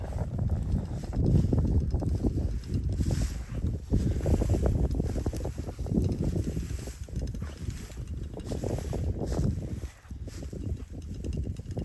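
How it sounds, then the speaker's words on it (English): Continuous gusty wind buffets the microphone for the whole stretch over a winter fescue pasture, rumbling and rising and falling with no voices. "It might be a little windy."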